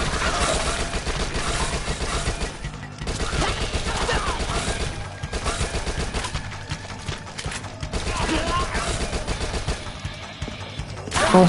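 Rapid, continuous bursts of submachine gun fire in a zombies-mode video game, loud and dense throughout with short pauses between strings of shots, under occasional talk.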